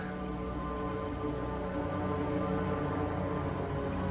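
Rain in the video game Banishers: Ghosts of New Eden, a soft, steady hiss of drops falling on surfaces, quiet and even throughout with a low rumble beneath.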